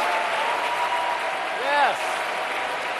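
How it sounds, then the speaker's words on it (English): Audience applause at the 2009 National Book Awards ceremony, a steady broad wash of clapping that continues throughout, with a brief tonal sweep and some voice-like sounds over it. "let's have a warm round of applause for all the nominees for the 2009 National Book Awards"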